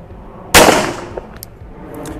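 A single sharp, loud report from a Colt Gold Cup Trophy pistol as the final shot, followed by a quick fading ring and faint small clinks afterward.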